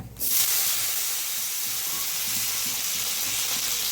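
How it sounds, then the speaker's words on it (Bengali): Chopped tomato drops into hot oil with fried cumin and dried chilli, setting off a sudden loud hiss that settles into a steady, even sizzle for the rest of the moment. "টমেটো কুচোটা দিয়ে দেবো।"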